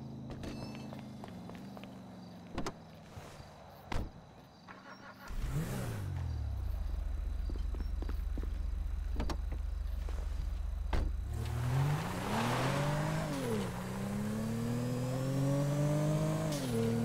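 GTA V car heard first as footsteps and door sounds, then an engine starting and settling into a steady idle before revving and accelerating away, its pitch rising and falling with gear changes, fairly close.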